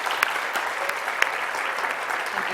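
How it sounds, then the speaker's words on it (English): An audience at a keynote gives steady, dense applause that fills the room throughout, with a few sharper claps standing out. "let's give her one more round of applause for joining us"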